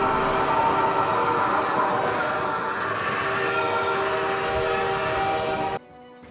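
Train passing in the Half-Life 2 video game: loud, sustained rumbling rush of rail cars with tonal whistle-like harmonics, cutting off abruptly near the end.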